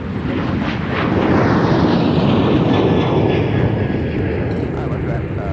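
An airplane flies past near runway 30 left at Minneapolis–Saint Paul airport, a loud broad engine roar that swells and slowly fades, with air traffic control radio talk over it.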